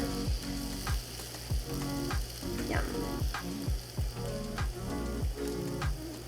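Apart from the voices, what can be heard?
bacon-wrapped chicken sizzling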